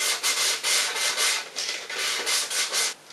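Fine sandpaper rubbed back and forth over a plastic water-rocket bottle, a close, rhythmic scratchy rasp in quick regular strokes with no talking.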